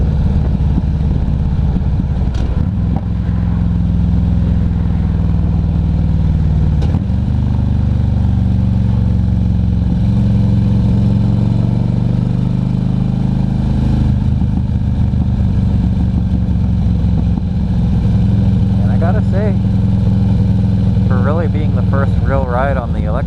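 A Harley-Davidson Electra Glide cruising on a highway, a loud continuous engine drone with shifting low tones and wind rush, and brief faint sounds near the end.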